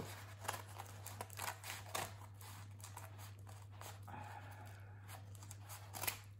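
Small scissors snip through an envelope in a run of quick, close, crisp cuts with irregular pauses between them. A low steady hum sits underneath, and no one speaks.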